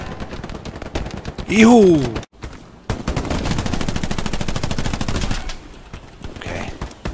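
Bullets striking an enemy soldier's helmet amid gunfire in a combat video game: a voice calls out playfully, a brief gap follows, then several seconds of rapid, loud sustained shooting that fades into quieter scattered noise.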